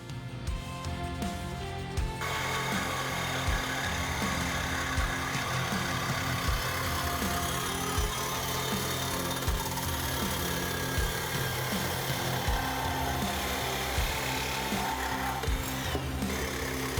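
A power tool cuts through the exhaust pipe of a 2024 Mustang along a marked line, a continuous loud, gritty metallic whine with rhythmic ticks, close up and steady throughout, with no speech.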